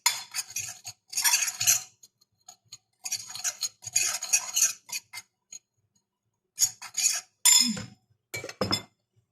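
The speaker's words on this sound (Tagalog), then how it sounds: "Hinalo-halo ko nga na ganyan. Hanggang sa mag-mix-mix lang sila lahat." A spoon stirring a spice marinade for fish in a bowl, bursts of close metallic scraping and clinking separated by short pauses, ending with a few sharper knocks, no talking.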